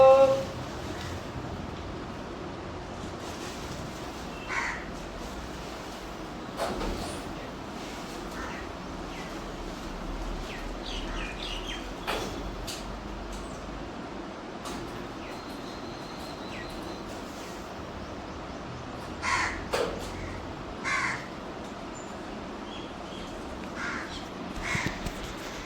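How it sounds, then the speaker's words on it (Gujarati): Crows cawing in scattered bursts, with mynas alongside, in an outdoor spot during summer heat; the calls come and go at moderate distance over a low steady background, with long quiet gaps between them. "કાગડા અને કાબર આવી છે"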